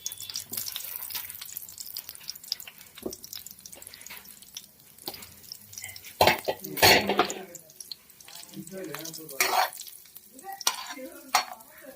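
Paneer frying in a pan, sizzling and being stirred with scraping clatters and a few sharp bursts, close and moderately loud, with no talk.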